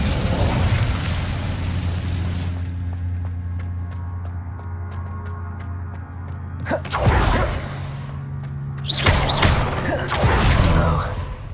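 Fire spell cast in Hogwarts Legacy: a low rumbling hum gives way to two loud whooshing bursts of flame, each a second or so long, with game ambience between them.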